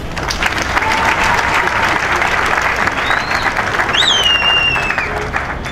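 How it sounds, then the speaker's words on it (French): A large crowd at a UDPS political party rally in Congo applauds steadily, dense sustained clapping with cheering voices and a couple of rising whistles near the end. "Je vous prie de les acclamer."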